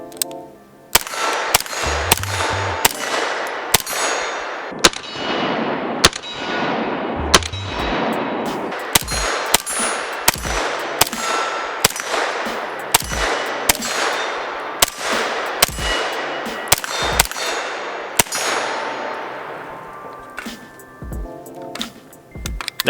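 A pistol caliber carbine fired at steel targets, a long run of sharp shots, each followed by a bright metallic ring, coming in quick strings with brief pauses between them.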